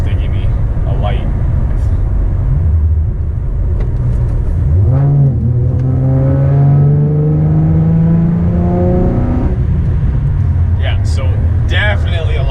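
A Camaro V6 with an X pipe and resonator delete idles with a deep rumble, then revs and pulls away, its exhaust note climbing steadily before settling; loud and close throughout.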